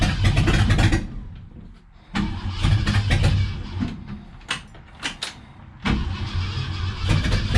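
A Ford 390 FE V8 in a 1966 Ford Galaxie cranks and fires in several bursts, catching and dying between attempts, with rough, loud, close engine noise separated by short quiet gaps.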